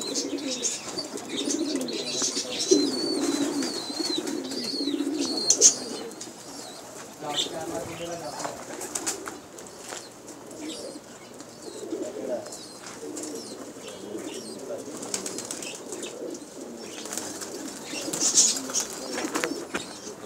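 A group of Lakka fancy pigeons coo in low, throaty rolls while lighter chirps and occasional wing flaps sound nearby, continuing steadily through the scene.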